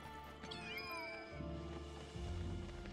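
Kittens meow in the video game Final Fantasy VII Rebirth, several high, wavering cries close together early on, followed by deeper rumbling game ambience and low thuds.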